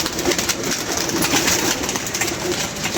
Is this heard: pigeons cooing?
yes